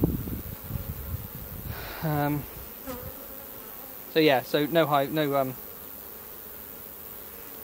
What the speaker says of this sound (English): Bee which is not happy with me, go away.